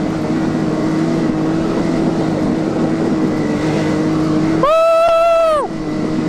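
A Can-Am Maverick X3 Turbo whips donuts in dirt, its engine droning at a steady loud pitch before revving sharply higher for about a second, then settling back down.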